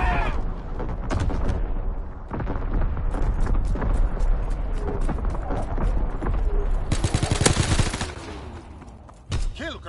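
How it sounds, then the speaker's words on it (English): Dense, sustained gunfire from a World War II shooter game on PS4, with rapid bursts and heavy blasts layered across the whole stretch, loud and continuous, with faint voices mixed underneath. "We're all just shooting."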